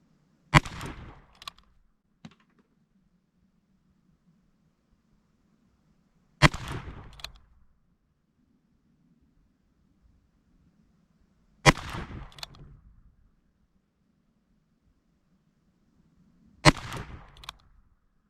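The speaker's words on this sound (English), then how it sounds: "And now the longer barrel at the bottom target." A longer-barrelled Ruger Single-Six revolver fires six .22 rounds spread out over the stretch, mostly one at a time with a couple of shots coming in quick pairs, each a sharp crack followed by a brief outdoor echo and a low hum between.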